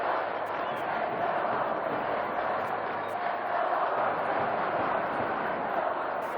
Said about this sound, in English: Both sets of fans are still singing, still cheering their tribes on.